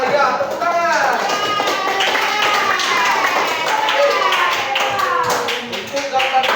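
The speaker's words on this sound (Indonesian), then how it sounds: "Ya, tepuk tangan." Classroom of students clapping for group 5, a dense burst of hand claps mixed with children's voices and chatter throughout, steady and fairly loud before tapering near the end.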